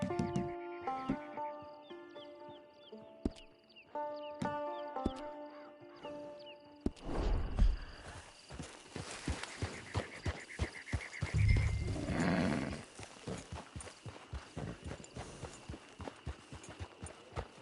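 Horse hooves clip-clop in a steady, fairly quick rhythm through the open-world Western game Red Dead Redemption 2, set against a busy in-game soundscape and starting after a quieter musical opening.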